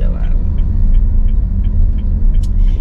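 A 2016 Honda Mobilio pulls away, with a steady low engine and road rumble filling the cabin and faint voices underneath.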